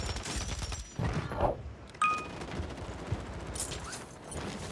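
Gunfire in a video game match with the Riveter shotgun, a busy run of loud overlapping blasts with sharp attacks near one second and two seconds, plus mechanical clanks over constant game noise.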